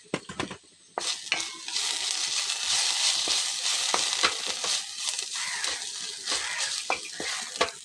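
Ginger-garlic paste sizzles and fries in a hot pan for an egg and fish dish, a steady loud hiss broken by clicks and scrapes of stirring, with no talking.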